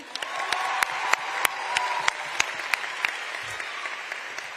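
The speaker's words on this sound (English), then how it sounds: "Can we give another round of applause for him?" A crowd applauds at a high school graduation ceremony, Wakefield High School's class of 2022. Sharp individual claps stand out over a steady wash of clapping that continues at an even level throughout.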